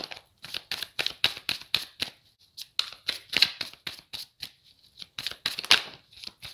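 Tarot cards shuffled and drawn by hand, a close run of crisp, rapid flicking and riffling bursts in uneven clusters with short pauses between, no voices.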